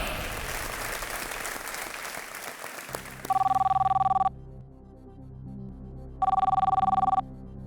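On a televised quiz show, a studio crowd applauds loudly, then a telephone rings in two sharp electronic bursts of about a second each, separated by a short quiet gap.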